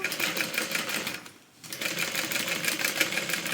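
A sewing machine stitches the lining of a tote bag in rapid, even bursts of ticking, pausing briefly in the middle before running on.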